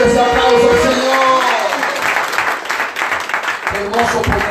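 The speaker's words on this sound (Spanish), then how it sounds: "¡Denle fuerte ese aplauso al Señor!" A congregation at a church worship service applauds loudly and steadily, with a dense patter of clapping and voices calling out over it throughout.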